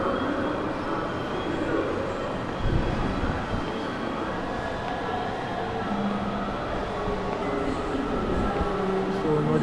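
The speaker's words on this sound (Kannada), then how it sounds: "ಮೆಟ್ರೋದಲ್ಲಿದ್ದೇವೆ" A metro train ride near Pilikula: steady low rumbling and rolling noise of the carriage running on rails fills the whole stretch, with faint background voices.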